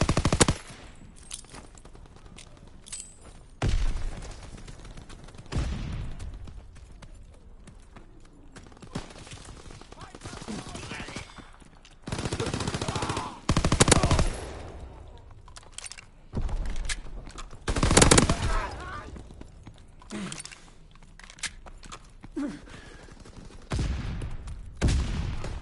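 Rapid bursts of submachine gun fire from a grease gun and a PPSh in a video game, loud and close, with repeated rattling volleys separated by short pauses.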